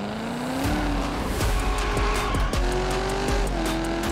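A race car in Test Drive Unlimited Solar Crown screams around a racetrack, its engine note rising and shifting through gears with tire squeal, loud and continuous without talk.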